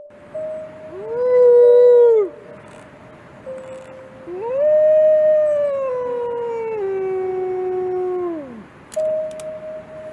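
Men imitate wolves with long, drawn-out howls that rise, hold and fall, several overlapping in a wild setting near a wolf; loud, clear and sustained, with a short pause between calls.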